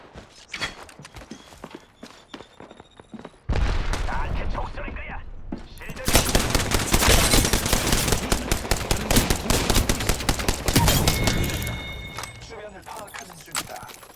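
Gunfire in a trio-mode shooter video game: rapid automatic bursts begin abruptly, then swell into a loud, dense stretch of sustained firing before easing off, with voices talking over it.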